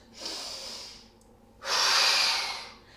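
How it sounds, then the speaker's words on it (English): Two forceful breathy exhales during a core breathing exercise with the hips slightly flexed, the second louder and longer, close and with no talking. "we're going to come back and exhale forward"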